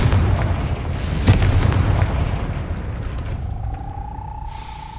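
In the video game Hogwarts Legacy, a Confringo blasting spell bursts into a loud booming explosion with a heavy rumbling roar that slowly fades, followed by a thin tone.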